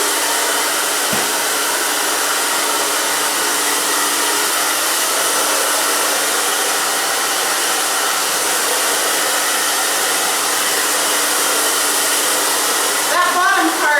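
A hair dryer blows steadily on wet hair during a haircut, a loud, continuous rushing whir with a low hum beneath. It cuts off briefly near the end with a small click, and a short rustle follows.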